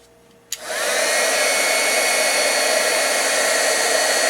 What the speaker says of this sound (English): And then we're going to heat it up with our hair dryer.